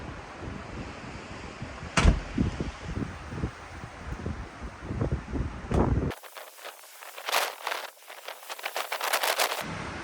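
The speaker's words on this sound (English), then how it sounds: "I have never seen it this windy" Strong wind at a log home build site in snow buffets the microphone in rough gusts and thumps, changing to a harsher, hissing rush partway through.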